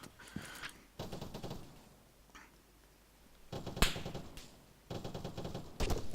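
Bursts of automatic gunfire from soldiers crackle in a tactical video game, several rapid rattling volleys separated by quiet gaps, sounding distant and fairly faint.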